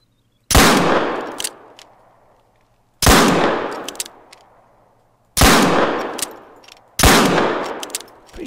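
Four loud, close pistol shots in the hunting game theHunter: Call of the Wild, each a sharp crack followed by a long fading echo, spaced a few seconds apart.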